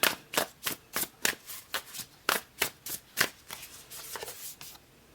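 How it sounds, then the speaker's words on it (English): Tarot cards are shuffled by hand in a quick run of about a dozen crisp, close riffling snaps at a steady rhythm, growing softer toward the end, with no talking. "I'm just going to pull one more card for you"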